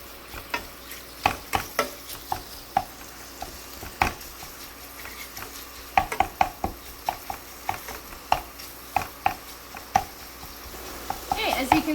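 Sausage frying in a pan for a paccheri and porcini dish, a steady sizzle broken by frequent sharp clicks and scrapes of a utensil stirring against the pan, close and moderately loud with no talking.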